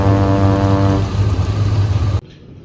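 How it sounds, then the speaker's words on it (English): The drain pump of a GE dishwasher running: a loud, steady mechanical hum with a strong low tone that cuts off abruptly near the end, leaving near silence. "Can hear the drain pump moving"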